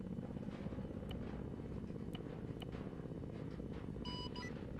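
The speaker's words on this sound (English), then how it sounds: "Enemy helicopter just flew over HQ" A helicopter in the military video game Arma 3 passes overhead with a steady, low rotor thump and engine drone, a little distant. A few short beeps cut through near the end.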